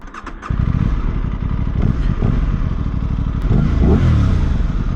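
A 2026 Aprilia RS660 sport motorcycle pulls away, its engine rumbling loudly and close as it gets under way and revs build, with no talk over it.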